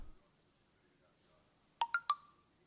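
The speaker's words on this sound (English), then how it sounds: "And you can hear my phone." A phone chimes with a quick run of three bright electronic beeps in a quiet room, coming in close and clear after near silence.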